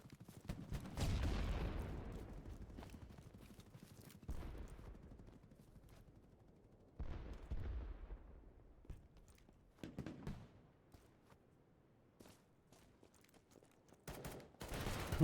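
Gunfire in the shooter game BattleBit: bursts of automatic fire and single shots, loud and close at first, then scattered volleys at varying distance with quieter gaps between them.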